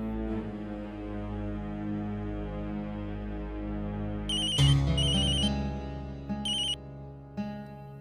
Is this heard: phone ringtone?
yes